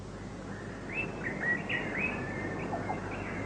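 Call of the saku bird in a fertile rural field, a series of short thin whistling chirps at moderate distance over steady outdoor background noise, with no voices.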